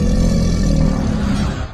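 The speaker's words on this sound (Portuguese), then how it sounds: "Rosnados." Deep rumbling werewolf growl sound effect, a single loud, close, low snarl lasting under two seconds and fading at the end, with no talk.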